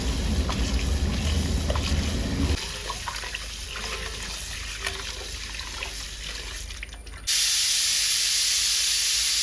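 A pressure cooker of chicken with water and salt sits on a gas stove, giving off a loud continuous hiss of steam that changes character partway through and then jumps to a harsher, louder jet.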